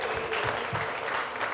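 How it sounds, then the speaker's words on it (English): An audience at a dreams and manifestation talk gives a dense, steady round of applause, continuous and fairly loud throughout. "So give yourself a round of applause real quick."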